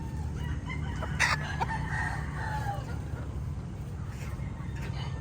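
A gamefowl rooster crows once at moderate distance, a short bright call over steady low background noise, with faint sounds of other fowl and no talk.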